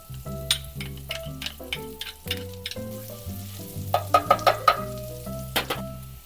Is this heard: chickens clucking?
no